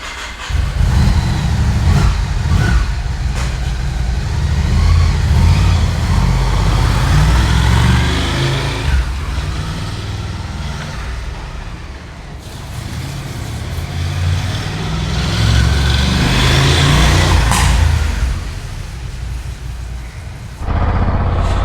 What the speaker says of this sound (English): to hear that exhaust note is like so peaceful and so nice.